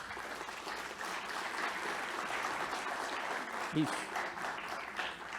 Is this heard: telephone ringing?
no